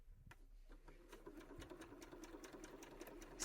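A sewing machine stitches an understitched seam through lining fabric, its needle running in a steady, rapid mechanical patter that holds evenly throughout at moderate volume with no talk.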